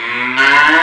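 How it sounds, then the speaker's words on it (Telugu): Buffaloes bellow in a long, loud, close moo that swells partway through and holds, with no talk over it. "అల్లుడు బర్రెలు అరుస్తున్నాయంటే"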